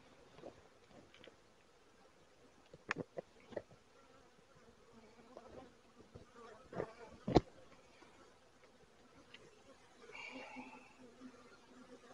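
Honeybees in a Flow Hive give off a faint, steady buzzing, with scattered clicks and knocks from the frames being handled nearby.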